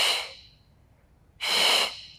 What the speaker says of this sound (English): We exhale.